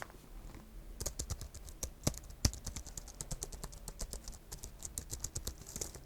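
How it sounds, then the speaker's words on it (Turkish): Clicky, fairly quiet keystrokes on a Logitech MX Keys wireless keyboard, a rapid uneven patter of individual key presses running throughout, close up with no talking. "Şimdi bir de tuş sesini dinleyelim."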